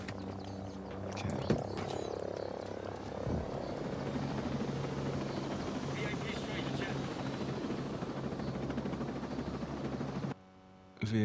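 A helicopter takes off in the tactical shooter Ghost Recon Breakpoint, its rotors making a steady, droning hum throughout, with a few thumps and a brief drop out near the end.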